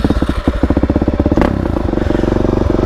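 A Suzuki DRZ dirt bike idles and revs on a trail ride. The engine's close, loud, pulsing putter runs steadily throughout, with a brief surge of throttle midway.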